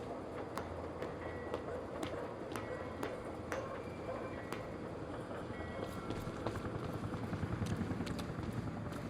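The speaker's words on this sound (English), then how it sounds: "Better get inside before the chopper spots me." Helicopter rotor thudding in the video game Quantum Break, a steady low chop with sharp periodic ticks, sitting at moderate distance under game ambience with no talk.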